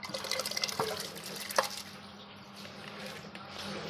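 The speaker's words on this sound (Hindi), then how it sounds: "अब हम इसमें चावल ऐड कर देंगे।" Soaked rice poured into a pot of water for a one-pot beef pulao, giving a soft close splash and watery trickle followed by low bubbling and liquid movement, with no talking.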